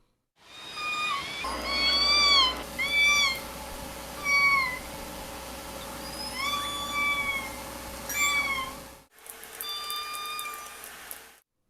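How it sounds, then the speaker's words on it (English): Orcas of K-pod give high, kitten-like S16 and S17 calls, a run of rising and falling squeals repeated in bursts, clear and close, before a short pause and a final series. "K-pod is distinct in that many of their vocalizations are higher pitched, making them sound like kittens, especially with their S16 and S17 vocalizations."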